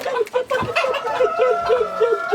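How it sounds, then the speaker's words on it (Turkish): Bantam Cochin roosters in a backyard coop: a run of soft, repeated clucks and low chortling calls close by, steady throughout, with a brief sharper call early on. "güzel sakinlerinden olan cüce koşin horozlarımız"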